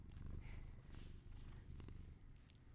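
A cat purrs up close, a soft, low, continuous rumbling with a steady breathing rhythm, quiet and alone with a few faint small clicks in the background.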